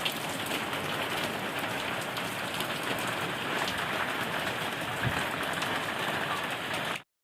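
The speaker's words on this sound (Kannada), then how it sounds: "ನೋಡ್ರಿ ಜಾಸ್ತಿ ಚೆನ್ನಾಗಿ ಮಳೆ ಕಟ್ಟಾಯಿತು ನೋಡಿ" Heavy rain pours down in a rural village, a loud continuous hiss of drops drumming on surfaces that holds steady throughout and then cuts off abruptly at the end; no talking.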